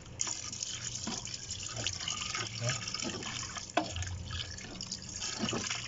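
Water poured into a pot of chicken biryani during cooking, a steady liquid splashing and trickling at close range that runs throughout.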